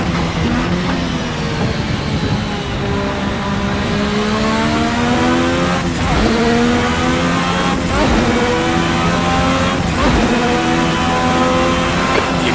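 Turbocharged race car in the Assetto Corsa racing game, engine loud and close, climbing through several gears with sharp shifts and repeated rising revs, alone without talk.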